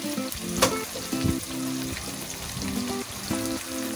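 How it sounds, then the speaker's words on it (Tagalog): Milkfish (bangus) frying in hot oil in a home kitchen, a loud continuous sizzle with occasional crackles and spatters and brief clatter from the pan. "Pag mainit na, lagay na natin ang isda na bangus."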